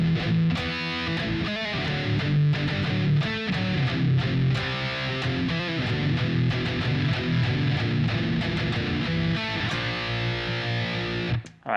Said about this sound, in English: we have a crunch rhythm based on the chords we played in the intro